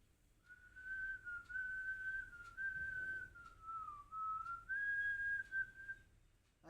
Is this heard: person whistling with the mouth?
yes